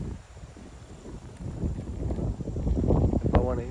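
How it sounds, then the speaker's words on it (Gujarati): Strong wind buffets the microphone outdoors under cloudy skies, a rough, rising rush that grows louder toward the end. "પવન એવું મસ્ત આવે તમે જો"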